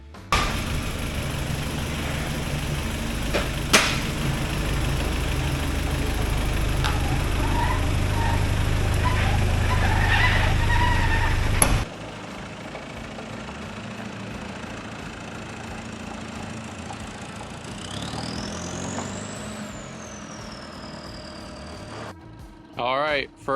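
The TDI diesel-swapped Willys Wagon idles with a steady, gruff rumble for about twelve seconds, then the sound drops to a quieter, more distant engine drone with faint shifting noises.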